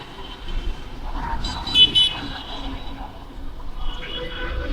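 Road traffic passing beside a hotel near Sugandha Beach in Cox's Bazar, with a steady motor hum and a couple of short car horn toots in the middle, heard under a faint background murmur.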